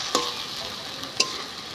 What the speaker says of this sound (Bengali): এক এক করে মশলা সব আমি একবারে ভেজে নিচ্ছি।